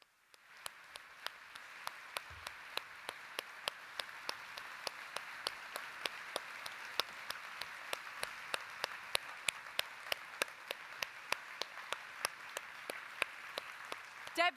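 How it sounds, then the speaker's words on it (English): A summit audience applauds after a speech, a long, sustained round of clapping with crisp rhythmic claps standing out, heard from a moderate distance and growing slightly over its length. "that is the longest and loudest round of applause we have had this entire summit"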